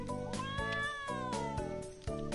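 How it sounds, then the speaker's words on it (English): A cat in the Trials of Mana video game meows several times over game music, with drawn-out, pitch-bending calls in a steady series and no talking. "Okay, can we appreciate this cat?"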